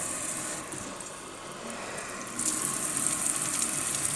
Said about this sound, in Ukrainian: Промиваю фільтр і роблю далі чистку, поки не буде повністю все чисто.